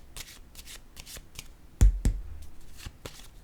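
Tarot cards being shuffled and drawn by hand, a run of soft riffling flutters with two sharper snaps near the middle as cards are laid down, close and fairly quiet.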